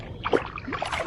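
A kayak glides across lake water at Lake Conjola, a brief soft splash and gurgle of paddle and hull against the surface, quiet and close.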